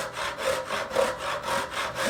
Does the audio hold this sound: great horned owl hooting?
no